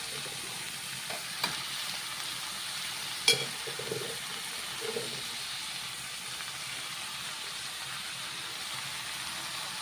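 Chopped spinach (palak) sautéing in a pan for keerai masiyal, a soft, steady low sizzle with a couple of stirring clinks early on, quiet and unbroken.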